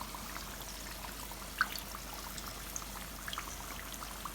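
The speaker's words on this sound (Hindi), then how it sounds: "थोड़ा सा हम इनको ना मज़ीद फ्राई करेंगे ताकि थोड़ी सी ये और गोल्डन फॉर्म में आ जाएं।" Nimki and mathri snacks fry in hot oil with a faint, steady sizzling hiss and occasional small pops and bubbles, heard alone without talk.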